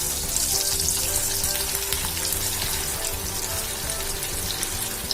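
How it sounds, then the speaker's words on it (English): Breaded cheese corn balls fry in a pan of hot oil, giving a steady, close, crackling sizzle that continues evenly throughout with no talking. "I'm going to fry it until they become golden brown"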